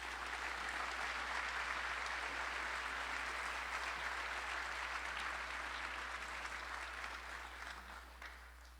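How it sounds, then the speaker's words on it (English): A crowd applauds at Aurora's 2022 State of the City address, giving steady, sustained clapping that stays fairly distant and fades gradually at the end. "Please give a round of applause for the Reverend Remus Orion."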